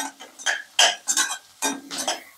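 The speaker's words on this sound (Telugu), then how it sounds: "అలాగే స్ప్రింగ్ ఆనియన్స్ ఇవి కూడా వేసి ఒకసారి ఫ్రై చేసుకుందాం" Cabbage and spring onions stir-fried in a pan for veg fried rice, with a run of close scraping and clattering strokes from a spatula against the metal, coming in short bursts with brief gaps between them.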